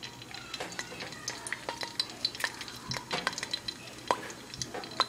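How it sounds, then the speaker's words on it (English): Cumin seeds crackle and sizzle in hot oil over medium heat, with scattered pops and light scraping of a utensil against the pan, fairly quiet. "It's just gonna sizzle up."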